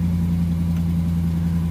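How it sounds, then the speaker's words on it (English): A Ram 1500 truck engine idles steadily while warming up, a close, even low hum with no revving and no voices. "As you see, the engine is warming up right now."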